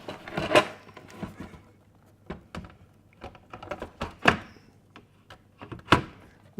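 A kick panel's hooks are fitted into the bottom of a Miele G6620SCi dishwasher door, giving a scattered series of close, light plastic clicks and knocks with quiet pauses between them.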